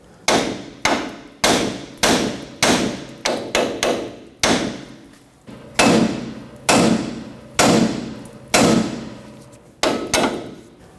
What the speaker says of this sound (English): Tap the side of the knuckle with a hammer, and this stud should break free and pop out of the knuckle.